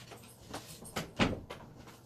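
A household door opened to let a cat out, with a few soft knocks and creaks from the latch and hinges, quiet and close by, lasting about two seconds.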